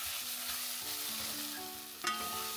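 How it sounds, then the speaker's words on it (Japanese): Onions sizzle steadily in a hot pot while being stirred, browning and sticking slightly to the pot bottom, with a brief scrape of the spoon near the end. "炒めているとこんな感じで玉ねぎの水分が蒸発して鍋底に糖分や繊維が張り付いて"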